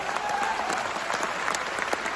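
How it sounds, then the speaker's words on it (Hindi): Audience applause at a company achievers' function in Jaipur, a steady, dense wash of many hands clapping that holds at even loudness throughout, with no voices standing out. "जोरदार तालियां हो जाए"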